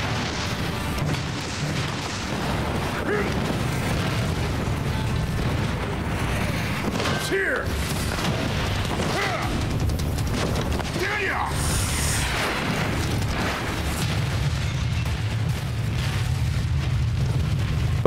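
Missile explosions in the fighting game Tekken 7: continuous rumbling blasts and booms roll on for the whole stretch, with a few sharper bursts, while a person talks over them.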